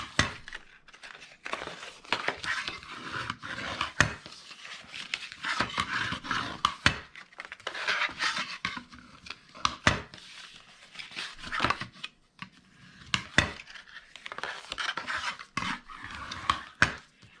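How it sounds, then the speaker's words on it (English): Scored paper being folded and burnished by hand, a dense run of crisp creasing, rubbing and scraping strokes close up, steady throughout with brief pauses and no talking. "So now all we need to do is fold and burnish"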